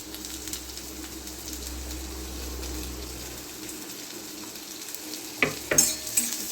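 Finely chopped onion fries in a pan on a gas flame, a soft, even sizzle that drops lower midway, followed by a few sharp clinks of a utensil near the end.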